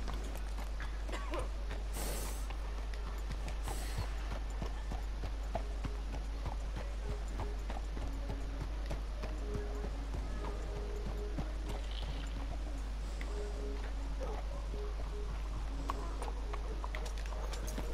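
Horse hooves in the video game Red Dead Redemption 2, a steady clip-clop of walking hooves throughout under constant background noise and game ambience.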